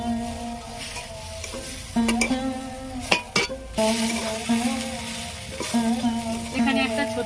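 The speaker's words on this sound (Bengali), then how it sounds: "এইভাবে অল্প অল্প আমি দুধ দেবো আর এইভাবে নাড়তে থাকবো" Vermicelli being stirred in a pan as milk is added little by little for an Eid shemai dessert: steady scraping and stirring with soft sizzling and utensil clinks against the pot, close and continuous.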